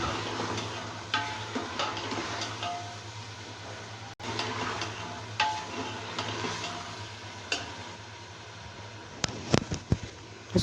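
Yogurt with chilies frying in a pan with ginger, garlic and onion for a kala chana curry, giving a steady close crackling sizzle with scattered sharp pops and light stirring scrapes throughout.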